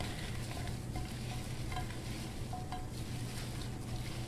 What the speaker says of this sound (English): So now I just want to get these all mixed together.